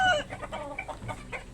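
Chickens at a backyard breeder's pen cluck in short, close bursts, a rapid series of throaty calls with no talking over them.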